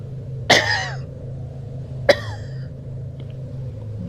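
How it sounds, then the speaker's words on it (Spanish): Two sharp coughs a couple of seconds apart over a low steady rumble, with a faint click afterward. "¿Quién estaba tosiendo?"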